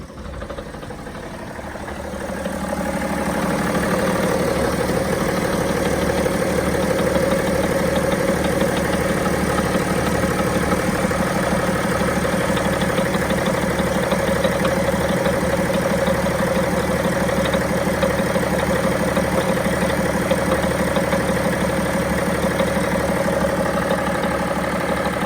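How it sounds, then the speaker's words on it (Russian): A BMW E70 with an M57 diesel engine runs steadily at idle, with a continuous rattling knock close by and no talk over it. "на 57-м моторе имеем вот такой стук."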